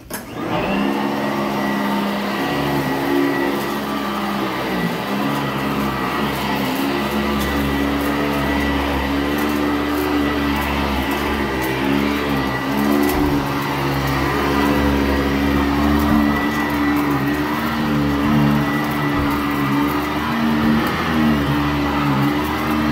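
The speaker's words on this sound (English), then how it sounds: "pre-vacuum apartment move-out cleaning," A Sanitaire SC899 commercial upright vacuum cleaner runs continuously during a pre-vacuum of an apartment move-out cleaning, with a loud, steady motor roar and whine that wavers slightly as the machine is pushed across the floor.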